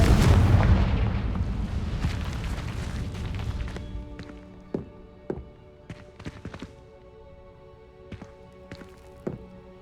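A loud Confringo blasting curse bursts in the Hogwarts Legacy video game, a heavy rumbling explosion that slowly decays over several seconds, followed by a scattering of sharp smaller pops and impacts against a quiet, ringing background.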